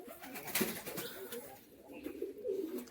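Pigeons cooing inside their coop, soft low repeated coos close by, with a brief rustle of movement.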